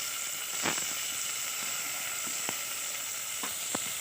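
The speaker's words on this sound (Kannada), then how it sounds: "ಈಗ ಟೊಮೆಟೊ ಹಾಕ್ತೀನಿ." Tomatoes go into sizzling masala in a pan on a home stove, with a steady, close frying hiss and a few soft clinks and stirring taps, and no voices.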